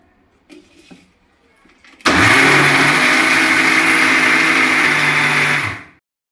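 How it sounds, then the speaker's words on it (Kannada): After a few quiet handling knocks, a kitchen mixer grinder roars to life grinding moringa leaf chutney powder, running loud and steady for about four seconds before winding down and cutting off. "ನಾನು ಮಿಕ್ಸಿಗೆ ಹಾಕ್ಕೊತಾ ಇದ್ದೀನಿ"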